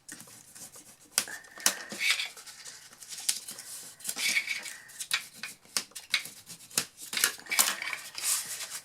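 Scissors snip through paper or card while crafting with autumn-themed Action store supplies, giving a run of close, crisp cuts in irregular bursts with small rustles and taps between them.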